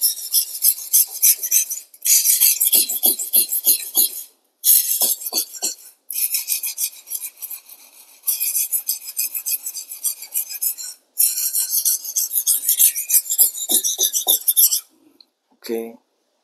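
A knife is drawn repeatedly across a 1000-grit whetstone, making harsh, rhythmic scraping strokes up close. The strokes come in long runs separated by brief pauses.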